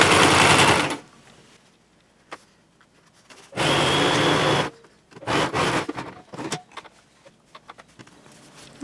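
A sewing machine stitches bias binding on a fabric car organizer, running in several short bursts of rapid, close stitching separated by quiet pauses and light handling sounds.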